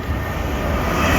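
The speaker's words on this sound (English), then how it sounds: "Coming up now, we have a fast LNER service." Fast LNER passenger train rushing through Doncaster station, a loud, steady roar of passing rail traffic filling the whole moment without a break.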